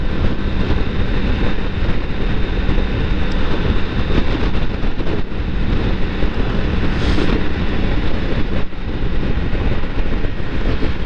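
Steady, loud broadband wind roar buffets the microphone on a Triumph Tiger 900 motorcycle while riding, continuous and unbroken for the whole stretch with no voices.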